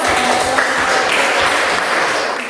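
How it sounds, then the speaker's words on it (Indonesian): Students in a classroom give steady, close applause after a group presents its discussion results. The clapping forms an even wash that tapers slightly at the end. "Coba teman-teman yang lain beri aplaus."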